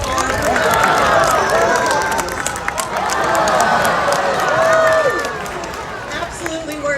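Crowd applause and cheering from an audience at a harbor seal and sea lion show at Como Zoo's Como Harbor, a steady, loud wash of clapping and voices lasting throughout.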